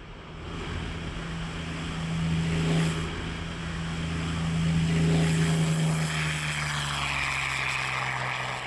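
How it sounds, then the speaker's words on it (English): A Yak-3 propeller-driven fighter plane drones past, a broad engine roar with a steady tonal hum that swells and fades twice over several seconds. "One of the results was this aircraft,"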